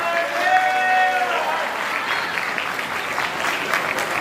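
Loud, dense applause from a community gathering crowd fills the whole stretch, steady clapping with a slight swell early on and a faint voice or tone lingering near the start.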